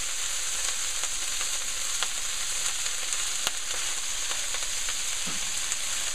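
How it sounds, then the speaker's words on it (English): Rinsed kale hitting a hot pan for Spam kale fried rice gives a steady, dense sizzle with faint crackles and pops throughout, close and continuous with no talking. "A bit of water is going to create a sizzle,"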